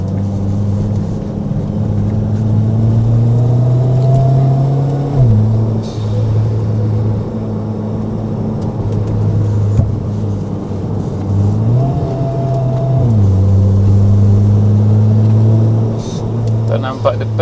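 Mitsubishi Lancer driving a winding mountain touge road, its engine drone rising and falling steadily with gear changes, close and continuous, with people talking over it.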